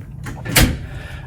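A shower door in a Royal Caribbean Symphony of the Seas ocean view stateroom shuts with a single close, sharp click and thud, set against a low room hum.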